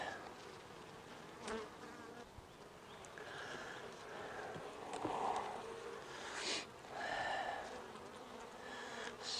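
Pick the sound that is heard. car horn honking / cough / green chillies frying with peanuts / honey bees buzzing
honey bees buzzing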